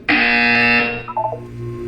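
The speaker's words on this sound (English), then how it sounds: "You will hear a buzzer." A single loud electronic buzzer in the video game Portal 2, a harsh, sharp tone lasting under a second, followed by fainter electronic tones trailing off.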